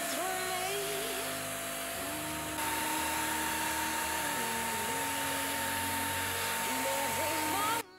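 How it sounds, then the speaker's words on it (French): A hair dryer runs continuously while drying a homemade Fortnite and Harry Potter scratch card, a steady whirring hum with a high whine, close and loud from start to finish. "Si vous voulez sécher plus rapidement, vous pouvez utiliser un sèche-cheveux."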